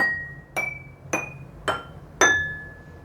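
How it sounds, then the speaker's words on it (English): Five glass bowls, four holding water, struck one after another at steady half-second intervals, each ringing a bright clear tone with lingering overtones, the last strike loudest. "I have poured water in 4 of the bowls. Now let us listen to them."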